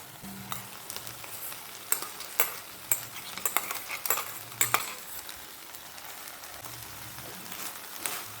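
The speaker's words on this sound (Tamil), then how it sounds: "இப்போது நம்ம அரைச்சி வச்சுருக்க தேங்காய் துருவலை இதில் ஆட் பண்ணிக்கலாம்" Ground grated coconut stirred into cooked drumsticks in a pan, soft sizzling under a series of scraping spoon strokes and light clinks, close and fairly quiet, no talking.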